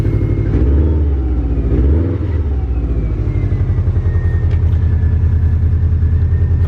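A cheap auction car with a check engine light idles after being started, a steady low rumbling engine with a faint rev swell early on, close and continuous throughout.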